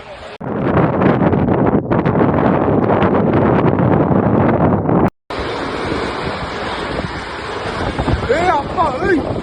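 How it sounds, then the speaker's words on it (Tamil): Strong wind from a tornado near Thoothukudi Airport roars and buffets the microphone continuously, with a brief dropout midway, and faint voices come through in the gusts. "தூத்துக்குடியில சூறாவளியா?"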